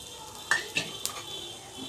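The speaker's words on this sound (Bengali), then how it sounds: "পেঁয়াজ আর রসুন এখানে দেওয়ার পর খুব ভালোভাবে এটা ভেজে নিতে হবে" Onion and garlic fry with peanuts in hot oil, with a faint sizzle under a few sharp clinks of a spoon against the pan, spaced about a quarter-second apart.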